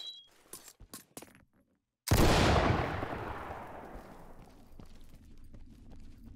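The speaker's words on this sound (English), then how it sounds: "we'll be able to see what it looks like when we throw a stun grenade or any type of grenade that stuns" A stun grenade goes off in Ready Or Not after a few light clicks and taps, a sudden loud burst with a long, fading ringing tail.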